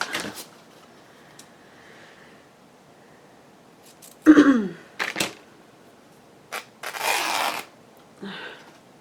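Scissors snip and then rip through cotton fabric at a craft table, a short sharp tearing burst followed by a few separate cuts and a longer rasping rip, close up in a quiet room.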